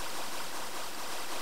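Water gushing from a geyser in the Minecraft Tekkit video game: a steady, loud, broadband rush of flowing water, continuous and alone with no pauses.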